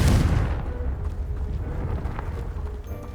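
A Confringo blasting spell erupts in Hogwarts Legacy with a single loud, deep boom at the start that decays into a rumbling tail, followed by low ambient noise.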